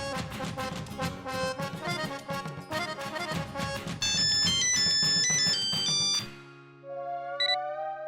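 A phone rings with an incoming call from Billo's phone, a loud melodic ringtone tune that plays steadily, then breaks off and changes to a softer held tone with a brief beep.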